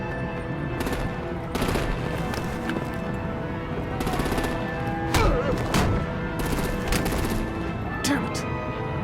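Bursts of automatic gunfire and sharp shots crack through a combat scene in Batman: The Enemy Within, rattling in repeated volleys over a dense, steady backdrop of action noise.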